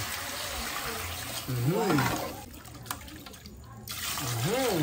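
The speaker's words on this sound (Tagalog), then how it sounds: "maglagay na po tayo ng tubig" Water pours steadily into a cooking pot for beef pares with a rushing, splashing sound while a voice talks over it.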